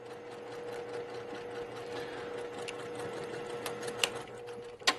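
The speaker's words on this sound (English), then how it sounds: "So now we're just going to sew right over that line." A sewing machine stitches through quilt fabric, running at a steady mechanical whir with a constant hum. Near the end come a few sharp clicks and thumps, heard close up.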